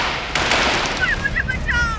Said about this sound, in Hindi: इतनी गोलियां क्यों चला रहे हो?